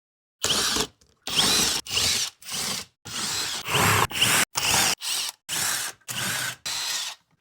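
Ten separate bursts of a power ratchet or drill spinning out 10 mm bolts from a Nissan Z's oil pan cover, each roughly half a second long with short gaps, close and loud, with no talking.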